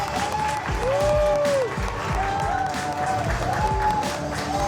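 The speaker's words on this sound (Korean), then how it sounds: "박수 부탁드립니다" Guests clapping at a Korean baby's first birthday party, steady applause beneath a loud, continuous mix of party music and chatter, with a sustained tone sliding through.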